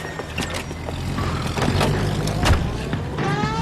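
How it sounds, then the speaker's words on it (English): A car pulling out of a driveway in the video game L.A. Noire, engine rumbling steadily with rising revs and mechanical clunks, fairly close and continuous, with no talk over it. "That's the car, Cole. Just pulling out of the drive."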